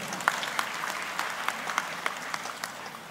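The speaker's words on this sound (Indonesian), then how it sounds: "Ya, tepuk tangan buat Papri." Polite applause from a seated audience at a university graduation ceremony, steady scattered clapping for about three seconds, moderately distant.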